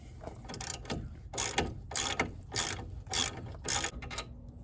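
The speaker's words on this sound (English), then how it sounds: "ratchet. See if we can get the caliper off." A ratchet loosening a brake caliper bolt on a Dodge Ram, six or seven quick bursts of close, loud clicking with short pauses between strokes.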